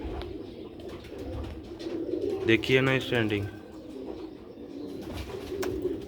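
Pigeons coo in soft, low repeated bursts at close range, and someone talks over them the whole time, his voice partly covering the birds.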